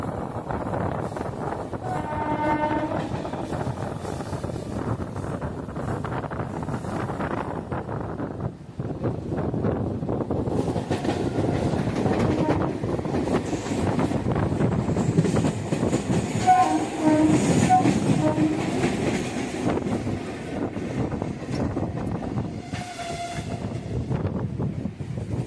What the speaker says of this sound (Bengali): আমাদের ট্রেন ঢুকছে উত্তরপাড়া স্টেশন